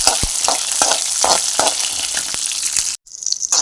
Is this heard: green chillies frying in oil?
yes